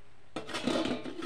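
A metal lid clanks onto a cooking pot of mutton pulao after ghee and biryani masala are sprinkled over it, a sudden clatter followed by a few short rattles as the lid settles, close and alone.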